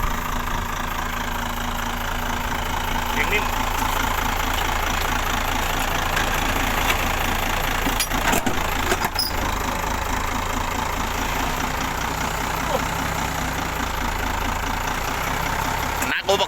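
A vehicle engine starts and then idles with a steady, even mid-pitched rumble, close and loud throughout, with voices talking nearby.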